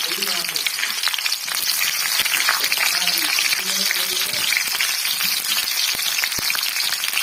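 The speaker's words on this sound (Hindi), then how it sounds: "तो संगवारी हो हमार तेल गरम हो गए है। अब इमे जो है हम डाल देथन मिर्चा ला।" Green chillies sizzling in hot oil in a home kitchen, a steady bright crackle of frying that runs loud and continuous while a person talks over it.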